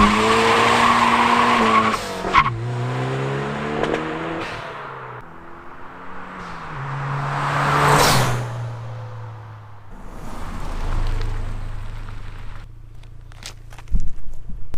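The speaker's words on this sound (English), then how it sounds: "I had to get one last burnout in, or at least try to." A Toyota MR2 does a burnout, its engine revving and dropping in waves while the tires squeal loudly, fading and returning, with a final rattle near the end.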